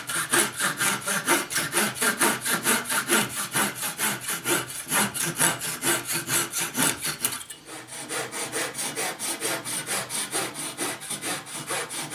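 Hand saw cutting wooden splines for a display case, rapid rhythmic back-and-forth strokes rasping through wood, close and steady, with a brief pause partway before the strokes resume.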